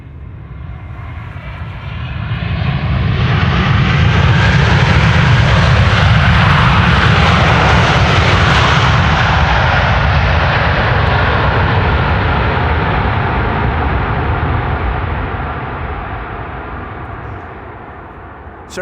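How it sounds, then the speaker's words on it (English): A Delta Airlines Airbus A330-300, twenty years old, arriving at Schiphol after a flight from Detroit, passes with a loud, sustained jet engine roar that swells in, holds steady for over ten seconds, then slowly fades. "This is Delta Airlines Flight 136 arriving from Detroit, Michigan. This is an A330-300"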